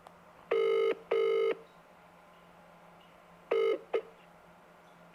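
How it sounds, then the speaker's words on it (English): Telephone dialing tones come in several firm bursts, two close together near the start and two more later, with a steady low hum between them and no voices. "Do a double dial."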